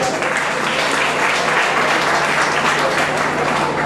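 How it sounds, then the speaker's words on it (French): A church wedding congregation applauds the couple Jean Claude and Sylvie with steady, loud, sustained clapping from many hands that fills the whole moment without a break. "Acclame puissamment le Seigneur, ne sois pas jaloux"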